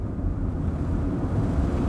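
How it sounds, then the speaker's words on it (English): A car drives along a road at night, a low steady rumble of engine and tyres with wind noise, constant and fairly close throughout. "This is the sound of someone driving along a road at night."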